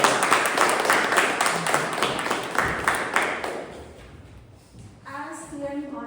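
Audience applause at a Toastmasters club meeting welcoming the Grammarian: a few seconds of dense, close clapping that thins out and fades, then a voice begins speaking.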